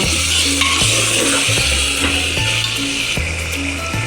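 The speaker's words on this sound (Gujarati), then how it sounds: "તો હવે આપણે દાળ પણ એડ કરી દઈએ, એટલે એ દાળ પણ આપણી ચડી જાય। મિક્સ કરવાનું છે આપણે દૂધી દાળ" Bottle gourd and chana dal fry in oil in a pan while being stirred, a steady, fairly loud sizzle with repeated scraping strokes of the spoon and no talking.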